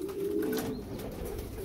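Pigeons give soft, low cooing calls close by in a loft, one continuous coo trailing off with light background rustle and no talk.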